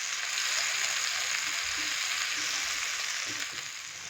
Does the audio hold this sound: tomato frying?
yes